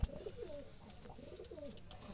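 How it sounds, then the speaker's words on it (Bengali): Pure Jalali wild pigeons in a loft give repeated low cooing calls, a steady murmur of several birds close by with a soft rhythmic pulse, with no one speaking. "পিওর জালালি বোনা কবুতরের লফ এটি।"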